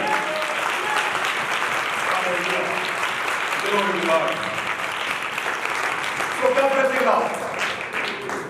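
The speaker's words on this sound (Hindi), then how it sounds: "उसके जलाल के लिए जोरदार तालियां बजाएंगे" A church congregation breaks into loud, sustained applause during a worship service, a thick continuous wash of clapping with voices calling out over it, filling the room from start to finish.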